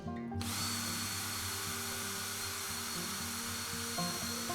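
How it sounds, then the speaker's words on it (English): A power drill bores pilot holes into a new garage door opener bracket, a steady whining motor drone that holds nearly unbroken throughout, fairly faint and close with no talk. "drilled some pilot holes set for the right spacing on the new bracket"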